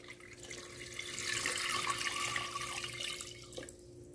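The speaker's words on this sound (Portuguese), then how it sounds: "Vamos colocar aqui também a água." Water poured into a pan over seasoned chicken pieces for a creamy chicken pie filling makes a continuous close splashing, trickling stream that swells in the middle and tapers off near the end, with no talk.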